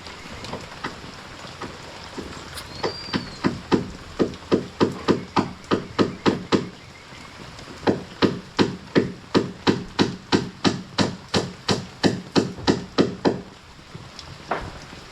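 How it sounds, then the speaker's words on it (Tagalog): A worker hammers nails into a wooden boat under construction: dozens of crisp, evenly spaced blows in two long runs, close and loud, over faint rain. "Yan ginagawa ni kaibigan ay nagpapako."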